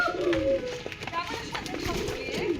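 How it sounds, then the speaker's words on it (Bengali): Pigeons of mixed breeds, desi, giribaz, Dhakaiya and peacock pigeons among them, give soft throaty coos in a loft, with faint background voices mixed in. "এখানে মুখী, দেশি, গিরিবাজ, ঢাকাইয়া, ময়ূরী, কিছু ক্রসের কবুতর আছে"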